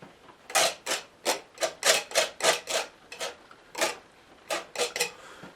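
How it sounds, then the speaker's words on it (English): Palette knife scraping thick oil paint for a rough sea in Cornwall, a close series of about fifteen short, rasping strokes in uneven rhythm, with no voice over them. "Desperate scraping."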